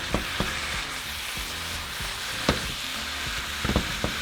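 Ground meat with taco seasoning frying in a pan, a steady soft sizzle with occasional sharp clicks and scrapes of stirring, close and fairly quiet, no voices.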